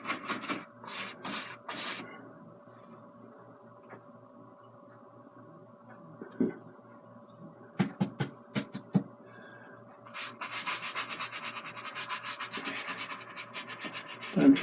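A brush scrubbing liquid white oil paint onto canvas makes soft, dry rubbing strokes, first in short separate bursts and then as a continuous rapid back-and-forth scrub, close and quiet.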